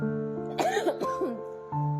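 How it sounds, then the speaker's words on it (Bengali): A woman gives a short, close cough in a home kitchen amid brief vocal sounds, a quick harsh burst standing out over a steady background hum. "বুঝতেই পারছো আমার অলরেডি কাশি চলছে।"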